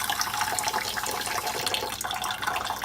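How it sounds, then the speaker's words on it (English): Cold tap water running over boiled eggs in a kitchen sink, a steady, loud, continuous gush of water with no talking. "just go ahead and run some cold water on them"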